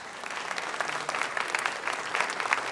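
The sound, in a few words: audience applause for quiz contestants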